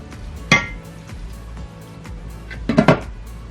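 A lid is set over a container of salted napa cabbage, producing two sharp plastic clacks and rattles, a single knock first and then a quick cluster near the end, with quiet handling between.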